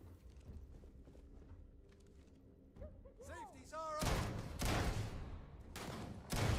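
A shotgun fires in Starfield as several loud, sharp, close blasts in quick succession, preceded by quieter mechanical clicks and whistling sweeps, with a voice talking.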